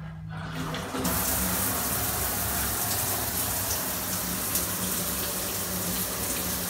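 Water gushes loudly and continuously into a hammam shower cabin, a broad, steady rushing stream that starts after a short quiet moment and keeps going without a break.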